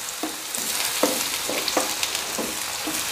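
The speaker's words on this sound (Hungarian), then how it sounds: "jöjjenek a paprikák, kápia paprikák, amik egész gyorsan meg fognak sülni" Kapia peppers and bread rolls sizzle on a Blackstone flat-top griddle, a constant close frying hiss broken by short scraping and tapping sounds at irregular intervals.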